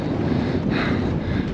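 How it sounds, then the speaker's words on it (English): Strong wind buffets the microphone on the rocky summit of Haytor on Dartmoor, a loud continuous roar with a slight gust surge midway and no talk. "Windy as hell."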